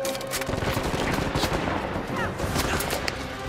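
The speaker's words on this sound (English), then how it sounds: "Yeah, I'm gonna keep shooting." Rapid gunfire in Uncharted 4 during a firefight in Avery's Descent, with dense overlapping shots and bursts rattling continuously throughout at close range.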